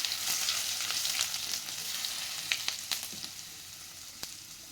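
Kashmiri red chili, chopped ginger and spices frying in a pan for chicken roast: a steady close sizzle with scattered pops and a few stirring scrapes, no talk.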